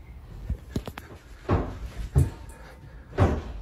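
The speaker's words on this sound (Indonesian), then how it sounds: "Pintunya kebanting-banting." Inside a house, a door bangs again and again on its own, giving several sharp, hollow thuds at uneven intervals, moderately loud against a quiet room with no talking.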